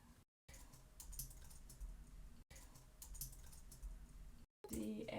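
Computer keyboard being typed on while entering code, a close, quiet stream of irregular key clicks in quick bursts, broken by brief silent gaps.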